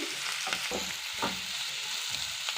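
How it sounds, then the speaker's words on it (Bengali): Masala being stirred into rice flour chowmein frying in a pan, a continuous soft sizzle with a few scraping stirs up close. "এটা মশলাটা মাখিয়ে দিচ্ছি"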